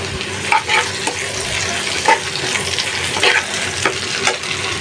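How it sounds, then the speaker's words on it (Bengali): Onions frying in a pan crackle steadily up close, with occasional scrapes and taps of a spatula stirring through them and no talking. "তো পেঁয়াজগুলো হালকা বেজে নিছি"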